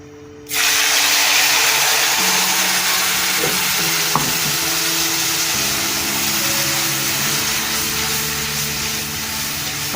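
Spices mixed with yogurt hit a hot pan for fish curry, bursting into a loud, continuous sizzling hiss that stays steady and close, with a faint clink partway through.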